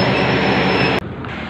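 A special express train rushes past at close range with a loud, dense roar of wheels and rail noise, its trailing power car at the end, then the sound cuts abruptly to a quieter rumble as it clears.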